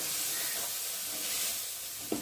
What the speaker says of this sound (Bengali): আর এখন চিংড়ি মাছটাকে ভাজি।